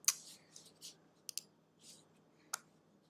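Computer mouse clicking in a quiet room: a few sharp, isolated clicks spaced irregularly, with faint soft rustles between them.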